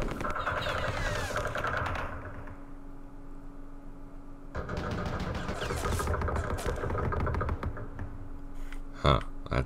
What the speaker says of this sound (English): Oh, that's that anti-aircraft machine gun.